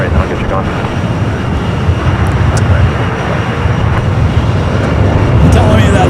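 An airliner at Los Angeles LAX airport gives a loud, steady broadband roar that holds for the whole stretch, with the rumble filling the low end and no break in the noise.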